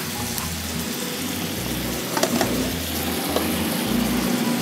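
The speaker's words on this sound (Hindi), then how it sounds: "एक मिनट धीमी आंच में ही मैं इसको भूनती रहूंगी" Potatoes mixed with yogurt roasting in a pan over a low flame for a fasting-day dish, a continuous soft sizzle with a low steady rumble underneath and occasional light stirring clicks.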